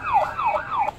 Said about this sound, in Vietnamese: Xe cảnh sát này. Xe cảnh sát. Police car.